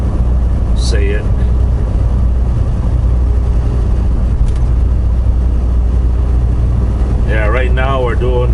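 A loaded semi truck rolls at highway speed, its engine a low continuous rumble mixed with wind noise; someone talks briefly near the start and again near the end over the drone.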